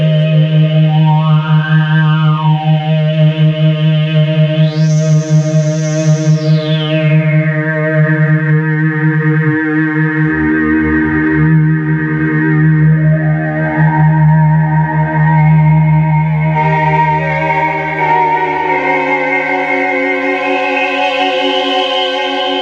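Polymoog 203a synthesizer, restored, sounding its resonator: a sustained, bright chordal drone with sweeping filter glides rising and falling, dense and loud, played alone with no talking.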